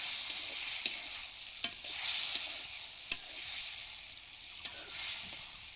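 Churi fish frying in a spice paste of garlic, turmeric, salt and green chili in a pan over a flame, steady soft sizzle broken by a few sharp stirring knocks.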